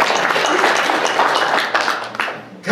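A room of listeners at a spiritual talk claps together, a dense steady wash of applause that thins out and fades near the end.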